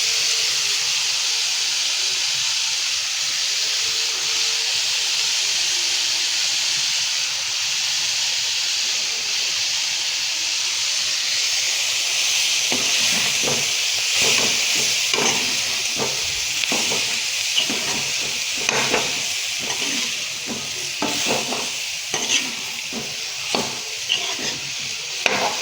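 Soya chunks and boiled potatoes frying in a pan, a continuous sizzling hiss throughout, joined midway by a run of irregular scraping and stirring strokes that grow busier toward the end.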